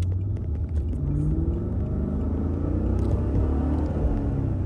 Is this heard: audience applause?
no